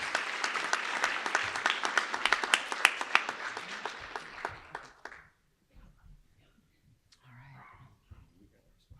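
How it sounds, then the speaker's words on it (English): Enthusiastic applause from an audience at a book award ceremony, dense clapping for about five seconds that stops abruptly, then faint room noise and a brief voice. "one more round of applause to everybody."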